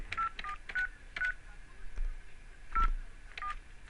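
Touch-tone keypad beeps from a basic dumb phone dialing a Google Voice number, a series of short, separate tones pressed at an uneven pace, fairly close and clear.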